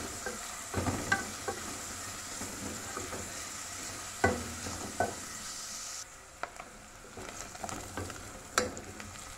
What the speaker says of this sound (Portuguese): Vou colocar logo aqui com o alho e a cebola para dar uma refogadazinha.